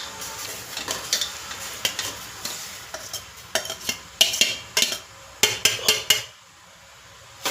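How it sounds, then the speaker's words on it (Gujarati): Raw papaya pieces are tipped into boiling sugar syrup and stirred with a metal spoon, sharp clinks and scrapes against the pot in an irregular rhythm over a soft bubbling sizzle, close and fairly loud, with no talking. "હવે આપણે એમાં સરસ આપણા કટકા એડ કરવાના છે"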